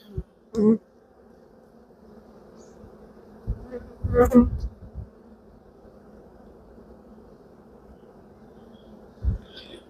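A steady low buzz of many honey bees around a hive of a large colony hums throughout, with a few sharper, closer bumps and brushes standing out briefly.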